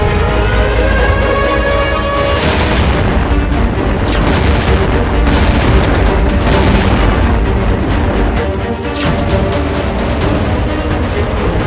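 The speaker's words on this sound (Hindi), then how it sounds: "देखिए एक और धमाका सुनाई दिया।" Loud booming blasts of artillery shells in Gaza roll over a constant heavy rumble, one heavy explosion after another with no voices.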